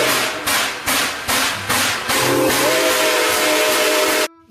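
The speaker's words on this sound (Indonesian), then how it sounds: "Kereta uap." Steam train whistle, heard as a loud sustained tone after a series of rhythmic puffing chuffs, then cutting off abruptly.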